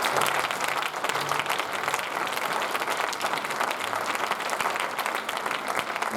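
Church congregation applauding at a baby dedication service, a dense, steady wash of many hands clapping at full volume throughout, with no voices standing out.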